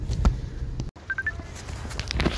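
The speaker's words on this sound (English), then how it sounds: "I'm going to call Papa Murphy, place an order" A phone dials out to place a takeout order, a quick run of three short, clear keypad tones, close and quiet, among light handling and room noise.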